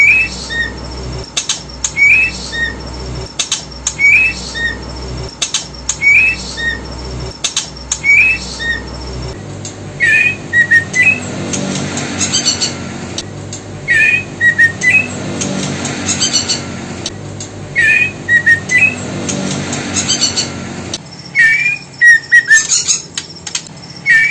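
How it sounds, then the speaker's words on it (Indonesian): A male trotol songbird repeats short, sharp whistled calls in regular phrases, loud and close, over a constant background hiss. "kita akan tampilkan lagi suara ngeplong trotol jantan"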